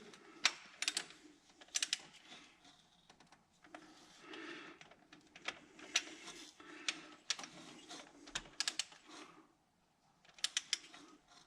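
A torque wrench set to 18 foot-pounds ratchets while snugging bolts on a Duramax water pump, giving quiet, close, irregular bursts of sharp clicks separated by short pauses.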